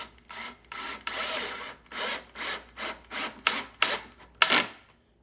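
A 2-inch drywall screw is driven into a pre-drilled hole in wood for a floating shelf, giving a series of about ten short rasping, grinding bursts in a steady rhythm, close and fairly loud with brief pauses between them.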